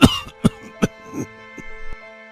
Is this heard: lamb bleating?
no